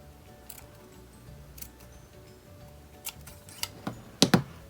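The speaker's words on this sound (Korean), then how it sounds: "여기에서 이렇게 굴곡진 부분만 가위집을 내주세요." Scissors cut small notches into quilting fabric along a curved edge, a few faint, sparse snips followed by two louder, crisp cuts close by at the end.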